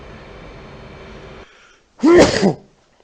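A single loud human sneeze bursts out alone after a stretch of faint background hum, sharp and close with a brief breathy tail.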